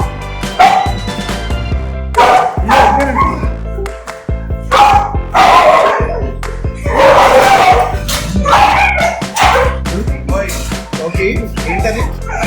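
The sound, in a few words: dogs barking at a dog care boarding kennel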